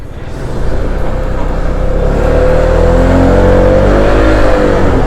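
An Aveta Nova 250 motorcycle on a test ride, its engine groaning and straining loudly while climbing uphill, a close droning rumble with a rising whine as the revs build.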